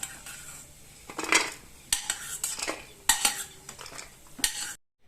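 Roasted cashews, almonds and pistachios are scraped from a pan onto a plate, giving bursts of clattering nut rattle and metal scraping in uneven rhythm over faint sizzle, ending abruptly.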